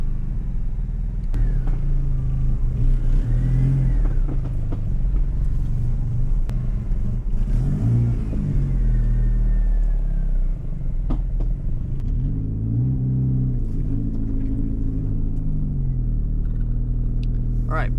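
An all-wheel-drive Mini Cooper with a swapped DSM 4G63 engine rolls along at a crawl, with a low steady engine rumble close by and slight changes in pitch. Someone talks intermittently over it.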